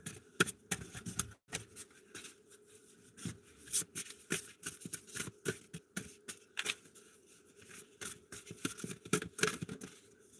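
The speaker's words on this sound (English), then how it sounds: "I already cut this deck and everything, so I just gotta shuffle and see." A deck of cards being shuffled by hand, with repeated crisp riffling bursts and soft flicks in an irregular rhythm, close and fairly quiet with no talking.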